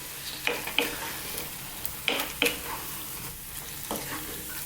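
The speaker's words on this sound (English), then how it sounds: "I'm going to stir this. We want a nice low heat now." Creamy garlic chicken spinach pasta sauce is stirred in a pan over low heat, with Parmesan going in: soft, irregular scraping strokes over a faint, constant sizzle.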